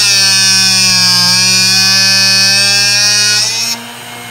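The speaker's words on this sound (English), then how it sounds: "we just push it in and let the grinder do the work" A Drill Doctor 750x grinder sharpens a drill bit, making a loud, steady high-pitched whine with light rhythmic ticking as the bit is worked, then the tone drops abruptly near the end.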